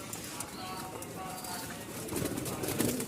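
Pigeons coo in a loft while they feed, a low murmuring coo that thickens toward the end over steady background noise, close by and moderately loud.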